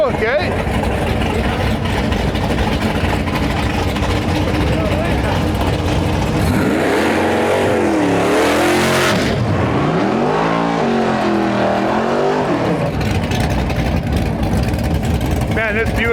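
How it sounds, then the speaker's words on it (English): A Buick Regal drag car at a dragway on Canada Day runs under constant crowd and engine noise, with a loud, wavering rev rising and falling for several seconds midway; voices talk over it. "Man, this Buick sounds pretty badass."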